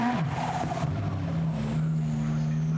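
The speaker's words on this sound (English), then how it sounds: "away goes the Kessel Ferrari" A Kessel Racing Ferrari 488 GT race car pulls away during practice at Brands Hatch, its engine note climbing through the revs and changing gear, loud and steady with background crowd or track ambience.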